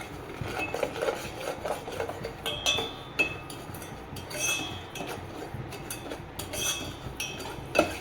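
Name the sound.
stirring sugar in an empty pan to caramelize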